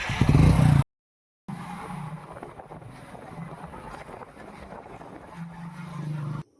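A motorbike engine hums steadily while wind rushes over the microphone. A loud burst and a short dropout come before the ride continues.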